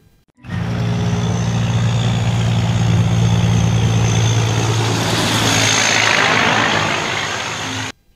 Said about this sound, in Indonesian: Truk kontainer super panjang.